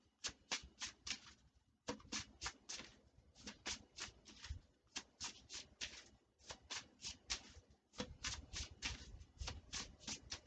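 Oracle cards for shamanic healing being shuffled by hand, heard close and fairly faint as repeated riffling bursts in quick, regular bunches with short pauses between them and no talking.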